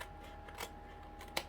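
Scissors cut paper along score lines for a handmade craft gift box, with a few quiet, crisp snips spaced apart over a faint steady background hum.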